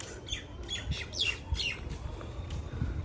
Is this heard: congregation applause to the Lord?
no